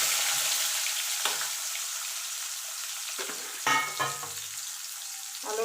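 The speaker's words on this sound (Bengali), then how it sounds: "এবার আমি এর তেলে আলুটা ভেজে নেব।" Potatoes frying in oil left over from frying fish, a continuous hiss of sizzling with a few louder bursts as pieces are stirred or shifted in the pan, close and without talk.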